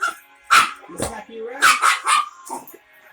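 A Chug dog barks and yips close by while its owner folds laundry, a quick run of several sharp, high barks over a few seconds.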